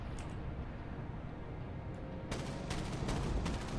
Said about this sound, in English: Gonna fire those flak turrets at him.